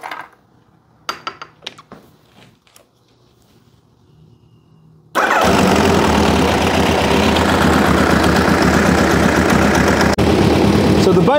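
Warmed-up Kawasaki GPZ900R motorcycle engine idling, loud and close, a steady rumbling drone that starts abruptly after a few quiet seconds of faint clicks and handling noises.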